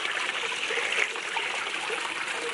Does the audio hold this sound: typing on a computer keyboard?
no